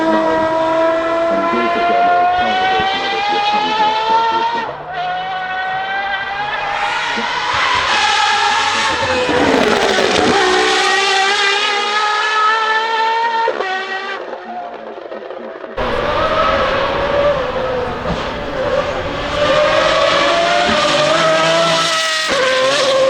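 Three-seater supercar with a lightweight carbon fibre body at the Goodwood Festival of Speed: a loud, close engine howl rising and falling through repeated gear changes, with a short drop in level before it screams up again, no talk over it.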